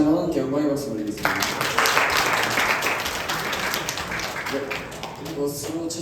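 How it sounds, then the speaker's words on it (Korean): A church congregation applauds at a youth summer retreat evening worship service, dense clapping swelling after a spoken line and fading over several seconds, with a voice talking at the start. "다시 한번 함께 영광의 박수 올리겠습니다."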